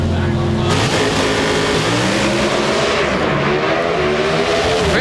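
NHRA drag racing cars launching off the line at the 2002 SummitRacing.com Nationals in Las Vegas, a loud roaring engine blast that shifts pitch as the cars accelerate, with a commentator talking over it.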